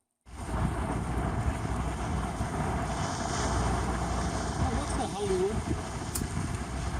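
Steady engine drone and wind rush from a water taxi moving across choppy water near Alert Bay, continuous and loud throughout with no talking.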